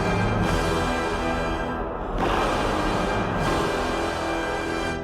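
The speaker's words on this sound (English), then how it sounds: "The V'ger cloud makes this awesome sound" Eerie blaster beam drone from an aluminum-built instrument, used as the V'ger cloud sound in the 1979 Star Trek film, a dense sustained metallic wash with a swell and surge near the middle, loud and continuous with no talk.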